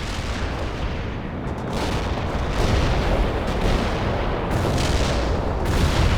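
An artillery barrage in the real-time strategy game World in Conflict, a dense, loud rumble of overlapping booms and distant impacts rolling continuously without pause.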